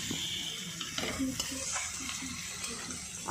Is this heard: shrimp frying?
yes